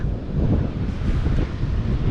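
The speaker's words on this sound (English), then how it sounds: "It's windy and the sand is super fine, so it just blows and blows and blows" Strong wind roars and buffets the microphone in a continuous loud rush on a beach at Padre Island with fine blowing sand, with a faint wash that could be surf beneath it.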